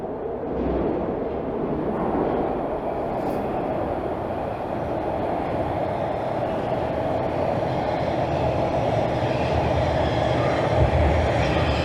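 Subway train rumbling into Pioneer Village station from the York University direction in Toronto, a steady loud low roar of wheels and motors in the tunnel that holds constant throughout with no voices.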